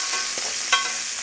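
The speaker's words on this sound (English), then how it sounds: "That is a hard sear." Steak hard-searing in a very hot pan, a steady loud sizzle and hiss with a couple of brief louder crackles, no voices.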